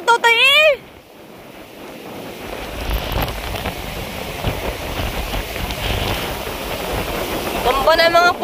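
Large waves pound the shore during Typhoon Uwan, with roaring surf and gusting wind buffeting the microphone throughout; a voice speaks briefly at the start and again near the end.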